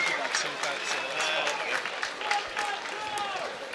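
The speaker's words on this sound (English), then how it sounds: "a big round of applause for both these men, please, after 5 hard-fought rounds of action" Arena crowd at a professional boxing title fight in London clapping after five rounds, a thick sustained applause with cheering voices mixed in, steady and fairly loud throughout.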